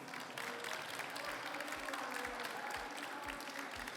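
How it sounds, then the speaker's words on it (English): Audience applause for the panelists at an innovation conference stage session, steady dense clapping from a large crowd filling the hall, with low thumps underneath. "how about a round of applause for our panelists?"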